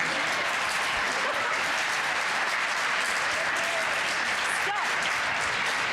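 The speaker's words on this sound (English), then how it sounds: "let's have a round of applause for Melissa Chiu." Steady audience applause fills a museum event hall at an artist talk, dense and even throughout, with faint voices mixed in underneath.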